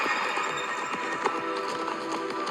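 Horse galloping in a video game, a steady stream of close hoof clip-clops with a busy, constant layer of game sound beneath, one sharper thud near the middle.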